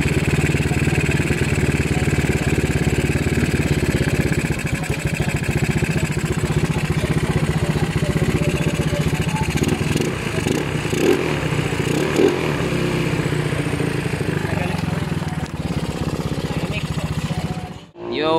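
Motorcycle with a 59mm big-valve reset engine, close and loud, running and revving steadily with clattering mechanical texture for most of the span before cutting off abruptly near the end; some voice mixed in.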